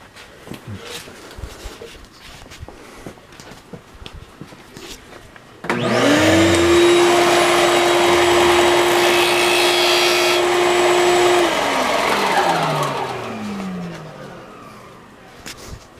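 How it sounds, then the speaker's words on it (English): A stationary sander starts abruptly and runs with a loud, steady motor whine and broadband grinding while a foam block is sanded square. The sound holds for several seconds, then the motor winds down and fades out. "I'm going to use the stationary sander. I'm going to sand this thing square"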